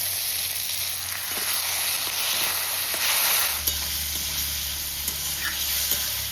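Fish and spices sizzling in a hot pan as water is splashed in, a steady loud frying hiss with occasional stirring clicks and a low rumble toward the end.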